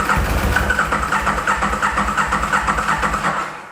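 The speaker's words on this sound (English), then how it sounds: "If we turn it on and we try turning it over, it doesn't start." A motorcycle engine cranks repeatedly without firing during a winter non-start diagnosis, giving a rapid, rhythmic churning pulse that holds steady and close for several seconds, with no voices.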